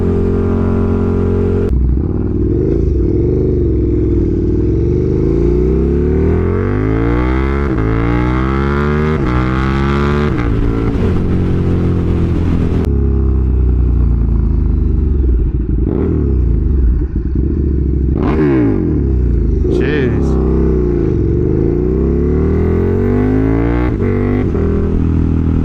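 A KTM 1290 Super Duke R motorcycle with a catless mid-pipe, heard while riding: a loud, close engine drone that rises and falls through repeated revving and gear changes, with wind noise over it, no talk.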